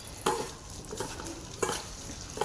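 A spoon stirs ginger-garlic paste into a sizzling curry in a pan for a ghee ridge gourd and brinjal dish, with a few distinct scraping strokes over steady frying sizzle, close and fairly quiet.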